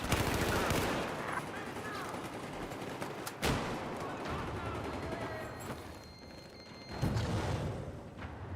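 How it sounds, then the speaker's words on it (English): Enemy machine gun fire in the Battlefield 4 video game: sustained, dense rattling bursts with heavy booming shots, loud and continuous throughout, with brief louder blasts standing out. "I've spotted an enemy machine gunner."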